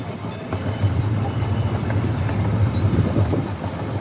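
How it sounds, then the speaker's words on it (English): Heritage train ride on the Whiskey River Railway, a steady low rumble of a moving railcar with faint wheel clatter and some wind noise, continuous and close throughout. "Like, for example, there's this train ride."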